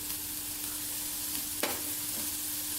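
Browned onion with freshly added ginger paste sautés quietly in a pan. A soft, steady hiss runs throughout, with one brief clink of a spoon midway.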